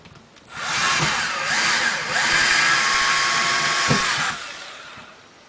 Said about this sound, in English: This is our handy little quick release drill.